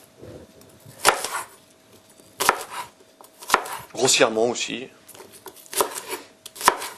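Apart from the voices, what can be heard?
chopping onions with a knife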